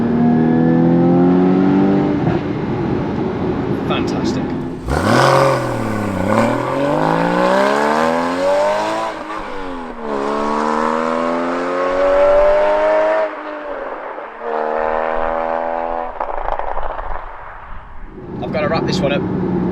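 A Porsche 981 Spyder revs hard through several gear changes with heel-and-toe blips, engine note rising and falling loudly between bursts, with crackling overrun pops and bangs, and someone briefly speaking.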